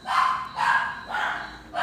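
A dog barks repeatedly at night, loud and close, in four sustained, howling barks with short gaps between them, agitating the other dogs on the block.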